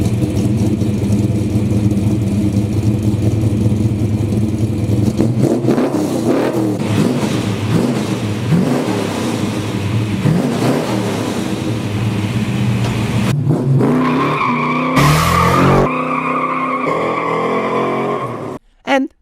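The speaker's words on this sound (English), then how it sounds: "they will never replace the sound and fury of a classic American V8" A Chevrolet Chevelle SS 454 with a classic American V8 roars loudly and revs up and down, tires squealing and skidding, before the engine note cuts off abruptly near the end.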